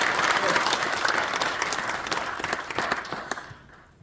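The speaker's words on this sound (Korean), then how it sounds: "박수 주십시오." Congregation of elders and pastors at a Seoul Gangnam Presbytery regular church meeting applauding a newly elected officer, dense steady clapping filling the room before fading out near the end.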